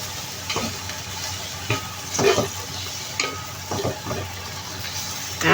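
Pork chop with carrot and baby corn stirred and fried in a pan, a steady loud sizzle broken by repeated scraping stir strokes.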